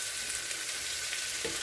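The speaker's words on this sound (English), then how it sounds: "Let me get this stirred up and get cooking here." Food for a German breakfast frying in a pan, a steady close sizzling hiss with faint stirring underneath and one brief low scrape near the end.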